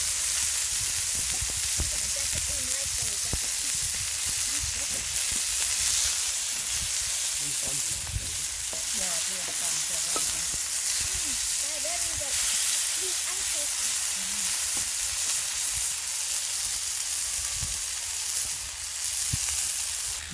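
Onions sizzling steadily on a hot cooking surface beside burgers, a continuous bright frying hiss throughout, with occasional crackles and people talking over it.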